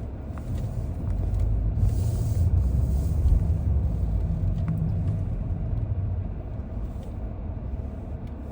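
Steady low rumble of slow car traffic on a Riyadh street on a Thursday afternoon, heard continuously from inside a vehicle, with faint occasional higher hisses and no talk.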